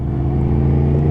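Suzuki GSX-S750 motorcycle engine, a 2017 model, held at low speed while the throttle is rolled on and off, giving a steady, loud, close mechanical hum with slight surges and no voices.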